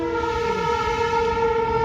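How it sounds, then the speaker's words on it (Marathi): A train rolls through at a level crossing while traffic waits, its steady horn tones sounding loud and continuous over the rumble of wagons. "अजून एक ट्रेन आली बघा"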